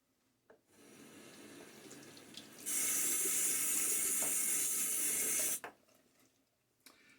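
A bathroom tap runs while a Timeless Ti .68 slant safety razor is rinsed: soft trickling, then a loud, steady rush of water for about three seconds that cuts off abruptly, followed by faint handling sounds.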